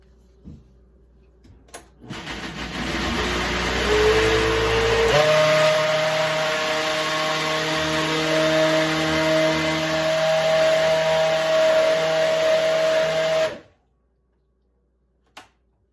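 A Vitamix blender runs loud and close while blending sourdough bread batter, a steady high-speed whir whose pitch climbs and then holds before the motor cuts off abruptly, followed by a brief clunk.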